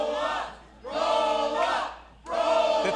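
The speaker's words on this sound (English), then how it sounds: "The crowd knows what they want to see. Chanting for Brian Murphy" Wrestling crowd at a live pro-wrestling show chanting for a wrestler, three loud rhythmic bursts of massed voices with short dips between, close and filling the room.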